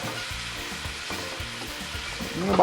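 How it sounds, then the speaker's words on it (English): Shrimp sauté in a hot pan with a constant close sizzle and crackle, plus a few soft stirring scrapes and a brief rise in intensity at the end; no one speaks. "We're going to saute this shrimp now"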